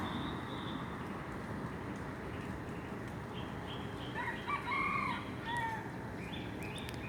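A rooster crows in the distance, faint and partly buried under a steady wash of outdoor background noise, with a few higher bird calls drifting in toward the end.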